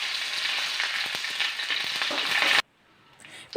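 Mustard seeds, dried red chillies and curry leaves sizzle and crackle in hot coconut oil, a dense steady frying hiss with scattered pops for most of the stretch before cutting abruptly to near silence, then a brief return at the end.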